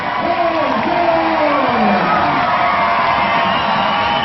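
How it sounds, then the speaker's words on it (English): A rugby sevens crowd at Hong Kong Football Club cheers and whoops as the Sri Lankan and Hong Kong teams come out for a cup final, a loud, dense, steady roar with shouts rising through it. "The crowd gives a big Hong Kong welcome to the Sri Lankans and hometown heroes"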